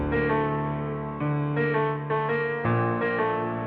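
A melody played on a Keyscape VST piano preset in an FL Studio beat, sustained tonal notes changing in several steps with echo and reverb tails, alone without talking.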